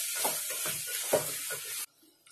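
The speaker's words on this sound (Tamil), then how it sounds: "இது எல்லாத்தையும் நல்லா வதக்கிக்கலாம்" Spices and potato pieces sautéed in a pan for potato biryani, with turmeric, chilli powder, coriander powder and biryani powder, give a steady sizzle with repeated stirring scrapes for about two seconds, then stop abruptly into near quiet.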